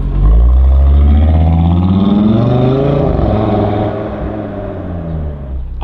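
An Audi RS3 8Y with its active exhaust valve open pulls away from close by, a loud deep engine rumble rising and shifting in pitch as it accelerates, then settling slightly toward the end.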